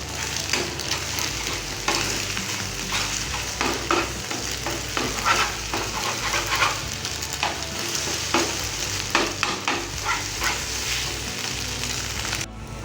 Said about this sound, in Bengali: এবার এটা ডিমটাকে আমি ঘেটে নেব।